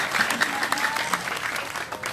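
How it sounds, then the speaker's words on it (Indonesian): Loud, steady applause from a large audience at an Islamic religious gathering, dense clapping filling the whole stretch without letting up. "Ini tepuk tangan sing banter."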